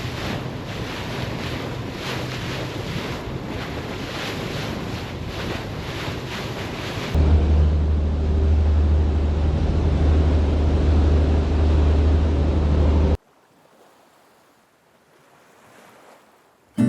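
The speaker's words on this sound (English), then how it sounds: "no voices other than the wind and the waves" Wind and waves on the open sea, heard from aboard a 48ft Hatteras motor yacht, rush in a steady broadband wash with low engine drone and microphone buffeting, then drop away abruptly near the end.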